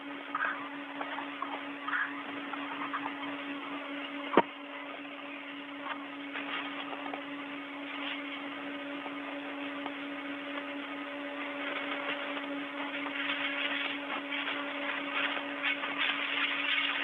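A power tool tightens screws during a Russian spacewalk at the International Space Station. It makes a steady, droning whir heard through a narrow radio-like channel, with a constant hum and one brief click, and nobody talks.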